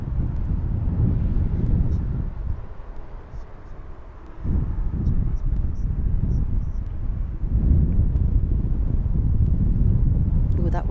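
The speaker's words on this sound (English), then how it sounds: "Ooh, that wind's picking up." Gusty outdoor wind at London Heathrow Airport roars as a heavy, close rumble across a microphone. It eases briefly, then picks up again even stronger.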